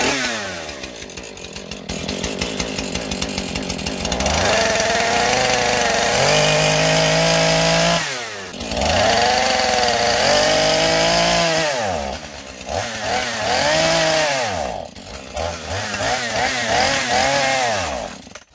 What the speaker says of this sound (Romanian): Paletul ăsta va trebui să-l tai în două.